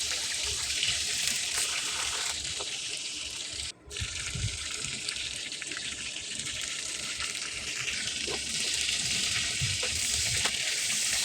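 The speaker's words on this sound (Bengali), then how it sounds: "মাছের মাথাগুলি আমি ভেজে নিচ্ছি। এখানে হালকা করে ভেজে নেব মাছের মাথাগুলি।" Fish heads fry lightly in oil in a pan, a dense, continuous sizzle close up with faint stirring scrapes, no talking.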